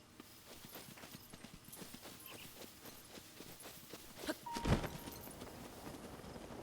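Horse hooves clip-clopping in The Legend of Zelda: Breath of the Wild, a quiet, steady trot of soft thuds with one louder impact near the end.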